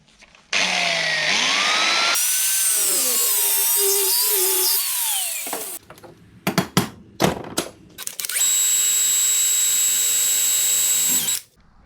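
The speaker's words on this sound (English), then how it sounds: "so I'll use the handheld grinder instead. It's going to cut way better." A handheld angle grinder cutting a small piece of steel for a boost-sensor bung, a loud close whine that rises and falls under load, then stops, followed by a few clanks and a second steady high-pitched grinding run.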